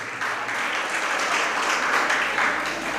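Applause from a crowd at a Jain religious discourse, a dense continuous patter of many hands clapping at moderate loudness, steady throughout with no voices rising above it.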